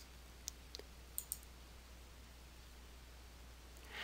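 A computer mouse clicks a handful of times, quick separate taps spaced over the first second and a half, close and quiet over faint hiss while selecting desktop background images in Windows 8.1.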